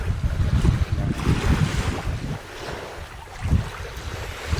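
Ocean surf washes onto a beach where tar balls come in with the waves, a loud, rushing wash with gusty wind buffeting the microphone and no voices.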